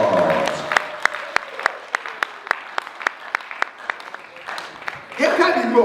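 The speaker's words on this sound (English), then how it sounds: "Give a big clap unto the Lord." Members of a church congregation clap in a steady, evenly spaced rhythm to praise God during a sermon, crisp claps under a speaking voice, with a louder swell of sound at the end.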